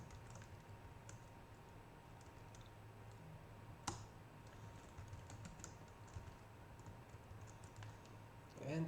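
Keys clatter steadily as code is typed on a computer keyboard, quiet and close, with a constant low hum underneath and one sharper click partway through.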